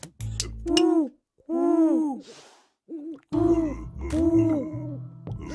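A human voice imitates an owl, giving several loud, drawn-out hoots in separate bursts with short pauses between them, close to the listener.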